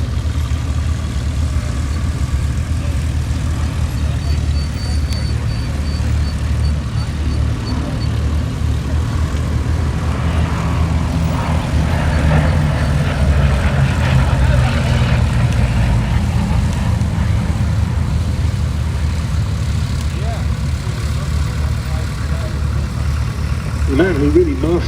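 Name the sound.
Bristol Blenheim aircraft engines at Duxford airshow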